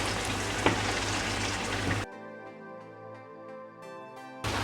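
Red chili sauce cooks in hot oil in a pan, a steady broadband sizzle for about two seconds before it drops out to a quieter stretch with a tonal hum, then the sizzle returns near the end.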